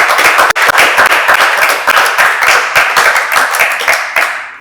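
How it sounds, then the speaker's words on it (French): An audience at a French-language gathering claps loudly and close, a dense burst of applause that holds steady for several seconds before quickly fading out. "d'applaudir pour vous-même"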